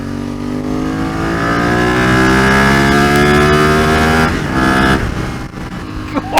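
Ducati motorcycle engine running loud and close, a steady rumbling drone that swells and holds before easing off near the end.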